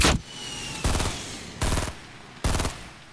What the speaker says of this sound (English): I wish you'd stop shooting at me.